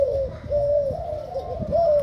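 A spotted dove coos in soft, low, repeated phrases, close by, with a faint murmur of background noise.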